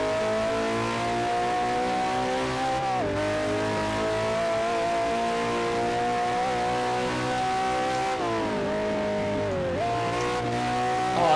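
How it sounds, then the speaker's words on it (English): A loud, continuous car engine drone in the video game Test Drive Unlimited 2 holds high revs, dipping briefly at gear changes before climbing again, with no voices. "This is so loud, this car."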